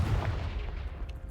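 A Confringo fire-blast spell going off in Hogwarts Legacy, heard as a short, heavy booming blast with a rumbling low-end tail, close and loud, with no voices over it.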